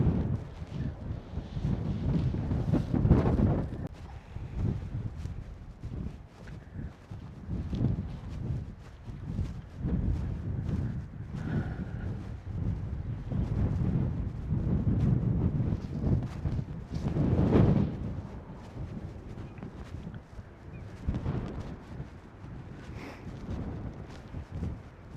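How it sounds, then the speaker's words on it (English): Wind gusts push into a camera microphone outdoors, making a low, rumbling buffeting that rises and falls unevenly and continues for a long stretch at moderate volume. "Okay, so the wind is back."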